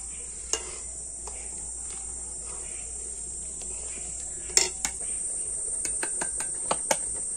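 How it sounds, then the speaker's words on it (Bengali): Gobindobhog rice flour is stirred in a pan with a metal spatula, giving sparse, sharp scraping clicks and taps that grow more frequent toward the end over a constant high insect-like whine. "আর এইভাবে খুন্তি দিয়ে নাড়াচাড়া করে নিতে হবে"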